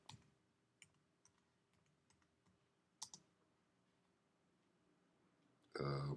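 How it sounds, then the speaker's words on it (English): Scattered clicks of typing on a computer keyboard, faint and sparse with a few sharper keystrokes, followed by a brief loud burst of sound right at the end. "Now let's type this in."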